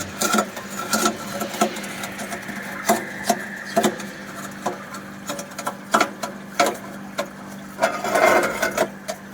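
A marine seawater flake ice machine's blade scrapes the frozen ice layer with repeated sharp cracking and scratching bursts over a steady mechanical hum, close and fairly loud.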